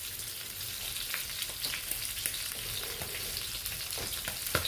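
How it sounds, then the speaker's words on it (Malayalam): Sardine curry masala sizzles and crackles steadily in a pan after water is added, a continuous close frying hiss with scattered pops and no talking. "മിക്സിയുടെ ജാറ് കഴുകിയ വെള്ളം കൂടെ നമുക്ക് ഒഴിച്ച് കൊടുക്കാം."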